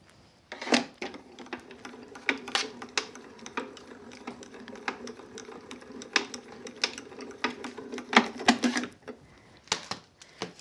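Die-cutting machine cranking a card through, a run of rapid, irregular clicking ratchet-like ticks close by at moderate volume, with no talking.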